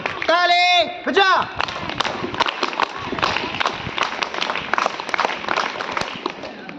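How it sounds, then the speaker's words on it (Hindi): Audience clapping at a teacher's farewell ceremony in a school, a busy patter of hands with sharp individual claps after a brief vocal moment at the start, under some voices. "हाथ ऊपर, ताली बजा।"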